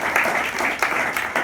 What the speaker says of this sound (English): if we could all give a round of applause for Randy